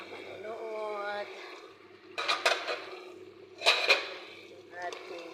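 Metal cooking pots clank and scrape sharply in a kitchen while kapsa rice is being prepared. The clatter comes in a few distinct bursts, and a person talks underneath it.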